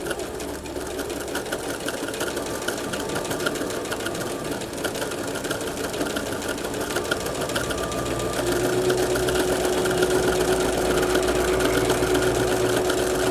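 A sewing machine stitches fabric slowly around a curve with its needle kept in the cloth, a steady close mechanical whir and rapid needle patter running throughout.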